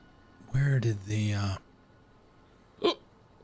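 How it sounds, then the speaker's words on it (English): A character in Fallout: New Vegas hiccups after eating too fast: a short voiced gulping sound, then a pause and one sharp, brief hiccup. "See, now I got hiccups."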